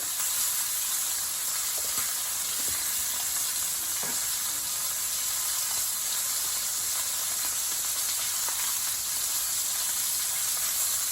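Butter and garlic sizzling in a hot pan while cooking a surf and turf dinner, a steady close hiss and crackle of frying that holds evenly throughout with no talking.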